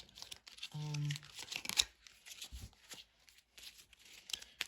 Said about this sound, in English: let's keep shuffling for our second.